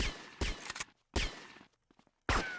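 Gunfire bursts in the GTA Vice City Definitive Edition shootout at Diaz's mansion: three loud, close volleys separated by short quiet gaps, with a few fainter shots in between.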